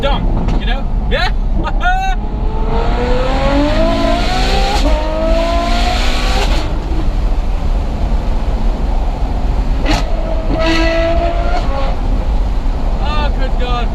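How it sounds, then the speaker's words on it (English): A Ferrari F12 with a Novitec N-Largo exhaust lets out loud, close crackling burbles as the revs drop, with rising and falling engine tones and someone talking loudly over the engine throughout. "So overrun on this is just like a short, sweet barble."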